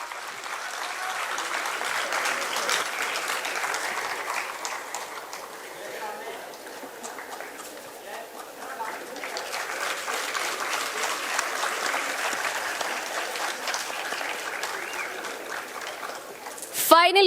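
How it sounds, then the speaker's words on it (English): Audience at a football tournament felicitation applauding the runner-up team, a long sustained wash of clapping that dips in the middle and rises again, with a loud thump at the end. "Please give them a huge round of applause"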